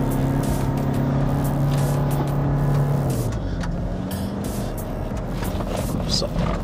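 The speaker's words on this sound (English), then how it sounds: "we're going on a taxi ride on this Triton Athlete around this rally track" A Mitsubishi Triton Athlete pickup drives hard around a rugged rally track, its engine note and road noise loud and continuous throughout, with people talking inside the cab.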